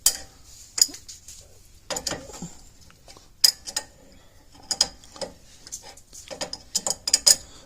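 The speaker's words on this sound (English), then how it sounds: "we're going to loosen this top nut up off here" Ratcheting and wrenching on the top nut of a vehicle's front axle near the center link and pivot arm, heard as irregular sharp metallic clicks and clanks in bursts, fairly close, with quiet gaps between.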